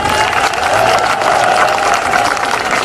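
Crowd applause for Amreen Malik at a Karachi political rally, a steady loud wash of clapping that holds throughout with no voice over it.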